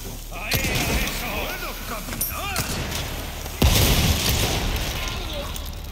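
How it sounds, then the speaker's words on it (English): Explosions in the Resident Evil 4 video game burst out as several heavy booms, one especially strong blast midway, over a rumbling background with a voice talking. "Don't use fireworks inside, buddy."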